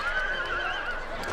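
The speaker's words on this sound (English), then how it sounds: "Lots of cavalry fighting here." Horses neigh and whinny amid cavalry combat in the Total War: Shogun 2 – Fall of the Samurai battle, a sustained shrill cry over a dense wash of battle noise for a moment.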